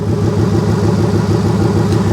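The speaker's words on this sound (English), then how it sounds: "these things will sit here and idle like a dream" Steady idle of a Ford F150 3-valve engine, heard up close as a loud, smooth, unbroken low rumble with no talking over it.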